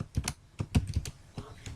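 Close, crisp clicks of a computer keyboard as code is typed, in short irregular bursts of keystrokes with brief pauses between them.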